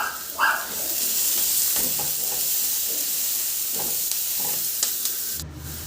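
Onion sautés in a hot pan with sardines, oyster sauce, salt and pepper, giving a steady sizzle and hiss with occasional stirring clinks close by.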